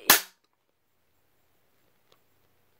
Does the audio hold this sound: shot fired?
yes